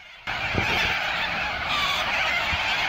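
A flock of corellas flying over fills the air with a dense, harsh, continuous screeching that starts abruptly and holds steady throughout, loud and close, with no voices.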